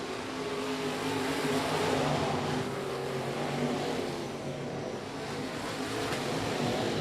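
Race cars run a heat race at I-37 Speedway, their engines a continuous loud roar that swells and dips as they circle the track.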